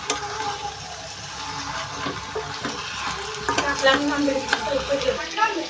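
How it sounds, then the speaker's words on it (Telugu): Marinated chicken fries in masala in a pan for a chicken curry. A steady sizzle carries repeated scraping stir strokes that grow busier toward the end, all close and fairly loud. "ఇప్పుడు చికెన్ వేసేసాం కదా ఒకసారి అయితే కలిపేస్తాం"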